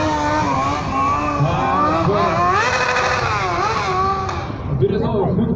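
A black motorcycle revving during stunt riding in an open stunt area, its loud continuous engine note swelling and dipping in pitch, with a voice faintly underneath.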